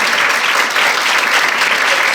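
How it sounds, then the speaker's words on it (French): A show audience applauds loudly, a dense, continuous roar of many hands clapping close and sustained throughout. "On l'applaudit bien fort."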